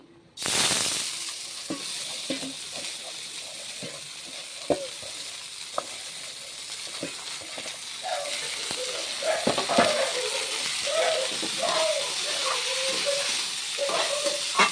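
Bora rice for a breakfast jolpan is fried in a little ghee and stirred in a pan. A loud sizzle starts suddenly and holds steady, with repeated scraping and clinking from stirring on top of it.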